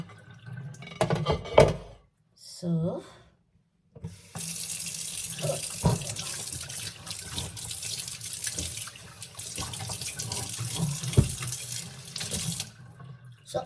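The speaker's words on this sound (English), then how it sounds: "So you can just take water directly from your tap and use it." A kitchen tap in a Swiss home runs water into the sink in a steady, close rush for most of the span, after a few brief clatters and splashes at the start.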